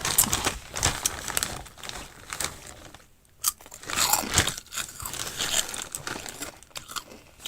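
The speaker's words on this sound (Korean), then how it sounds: "맛있어가지고 하나만 더 먹어볼게요" A crunchy snack bitten and chewed up close, crackly crunches and crinkling in irregular bursts across the stretch with a brief quiet gap midway, no talk.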